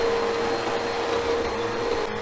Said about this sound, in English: Matthew's vacuuming right now.